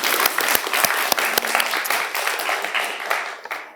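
An audience at a poetry café applauds its poets, loud close clapping with sharp individual claps standing out, gradually thinning toward the end.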